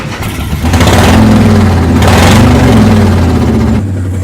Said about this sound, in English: let's fire this sucker up.